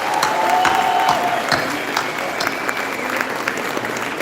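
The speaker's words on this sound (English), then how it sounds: "Let's give Priya another round of applause." Sustained applause from a sizable crowd at an annual gala, steady and loud throughout, with scattered sharp claps standing out.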